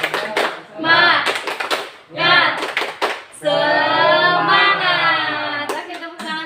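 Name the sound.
group of children doing a rhythmic spirit clap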